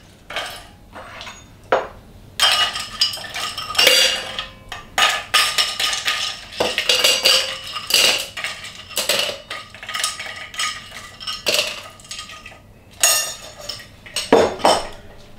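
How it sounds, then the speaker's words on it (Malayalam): Ice cubes clattering into a metal cocktail shaker for an alcoholic pina colada, a busy run of loud, close clinks and knocks in irregular bursts. "കുറച്ച് ഐസ് ഇടുക."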